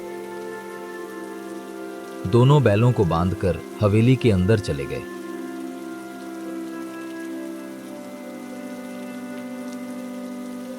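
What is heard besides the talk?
heavy rain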